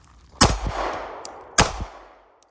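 Two S&W Equalizer pistol shots ring out about a second apart, each a sharp crack followed by the metallic clang of a steel gong target decaying into a ringing tail.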